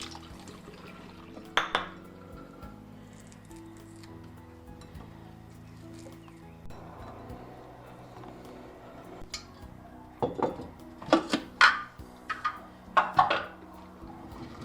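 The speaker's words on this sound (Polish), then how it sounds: "W kuchni szybko je myję i obieram z szypułek." Fresh garden strawberries being rinsed in water in a kitchen, with soft liquid sloshing and a few clinks of a bowl and dishes, rising to sharper splashes and knocks near the end.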